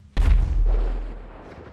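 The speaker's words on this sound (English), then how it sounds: "When inside interiors, you may occasionally hear an unexplained explosion outside." A single deep boom from a distant explosion outside an interior in GTA 5 erupts suddenly, then rolls off into a long low rumble that slowly fades, with no voices.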